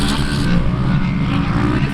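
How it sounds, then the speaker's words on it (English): Off-road race trucks roar past at a desert off-roading festival, a loud, dense engine rumble and revving that fills the short moment. "They're racing the trucks now"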